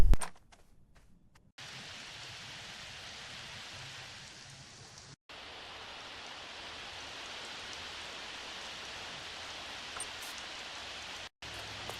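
Steady rain hisses in an even, close wash of drops for the whole stretch, briefly cut off near the start and again twice later, with no voices over it.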